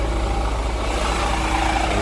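Diesel engine of a Mercedes Tourismo coach running at a steady idle with its rear engine hatch open, a close, continuous low rumble with no talking.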